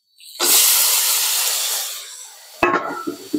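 Tomatoes hit a hot oil tempering with green chillies and erupt into a loud, close hiss that slowly fades, followed by sharp scraping and stirring knocks.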